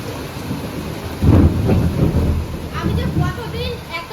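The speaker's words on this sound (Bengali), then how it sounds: "এত বজ্রপাত হচ্ছে" A loud rumble of thunder rolls in over steady heavy rain, fading into continuous downpour with a voice briefly audible near the end.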